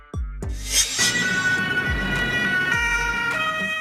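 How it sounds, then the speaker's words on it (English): A police patrol car siren wails loudly and close, a repeating electronic whoop with a low horn-like pulse recurring under it, no voices. "Police patrol car."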